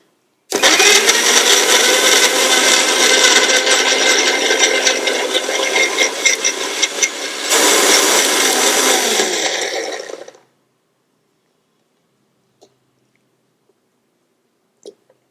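A blender whirs loudly and steadily for about ten seconds while making ash gourd juice, its pitch shifting once partway through, then stops, leaving near silence with a couple of faint clicks.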